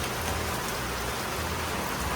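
Heavy rain at a campground in Key West, Florida, during hurricane season, a dense, steady hiss of drops on surfaces with no breaks and no talk.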